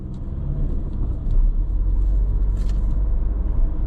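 A car moves off along a Polish road toward Głuchołazy after a ticket is paid, giving a steady close engine rumble and low road noise with a slight swell partway through.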